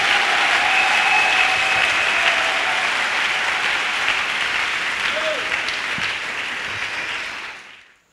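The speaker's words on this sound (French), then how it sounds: "Clap offering to Jesus." A church congregation claps as an offering of praise to Jesus, a full, sustained roar of applause with faint cheering tones woven in, steady and loud before fading out at the end.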